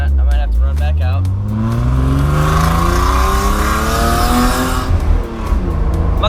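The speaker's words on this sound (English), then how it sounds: "My car is too loud for vlogging" A car engine drones loudly and steadily from inside the cabin while driving, with rising and falling engine tones and a voice briefly speaking over it.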